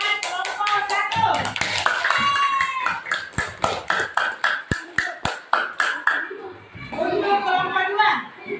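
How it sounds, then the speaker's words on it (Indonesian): A classroom group applauds for a presenting team at an elementary school, with a run of separate claps that thins into slow, evenly spaced single claps before fading out, while voices speak and murmur over it. "beri tepuk tangan buat kelompok 1"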